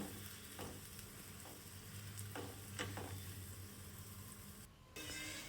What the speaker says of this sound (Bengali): এটাকে দিয়ে ভালো করে নেড়ে চেড়ে দুই এক মিনিট কষিয়ে নিতে হবে